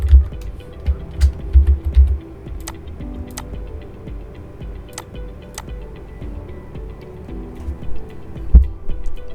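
Keys tapped on a computer keyboard while a username and password are entered to log into a Windows server, heard as scattered soft clicks in short bursts over a steady low hum.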